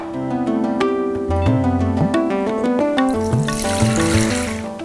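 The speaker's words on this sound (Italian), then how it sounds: "inseriamo 1200 g di acqua all'interno del boccale del Bimbi" About 1200 g of water pours into a Thermomix (Bimby) bowl, a bright splashing rush in the last couple of seconds beneath prominent background music.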